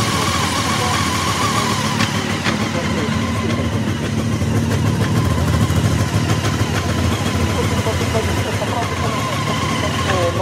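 A Yamaha R6 sport motorcycle idles steadily at a petrol station, its engine drone continuous and fairly loud for the whole stretch, with people talking over it.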